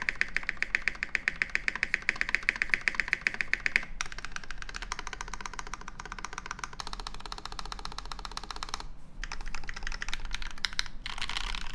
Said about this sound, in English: The alphas, some of these are clicking.